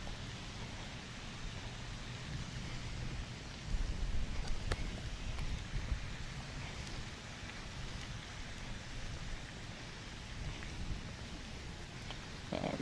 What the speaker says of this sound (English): the rain's dripping